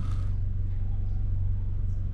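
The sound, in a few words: modified Audi A3 with dual-clutch gearbox revving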